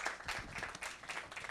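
Audience applause at a live comedy show, a dense, steady wash of clapping from a crowd that fills the whole moment at moderate level with no voice on top.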